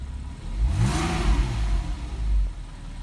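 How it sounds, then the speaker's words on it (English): A 2009 Porsche 911 Carrera engine is revved once, rising quickly from a low rumble to a loud, close roar and then settling back toward a steady idle, with no talk. "I'm gonna rev it up a little bit for you guys"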